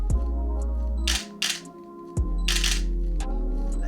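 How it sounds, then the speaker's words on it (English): Several crisp clacks from a Nikon D700 DSLR's shutter and flipping mirror, fired in a quick irregular series close by against a steady low room hum, with no talking. "I love that nice clap sound of like the shutter and the mirror."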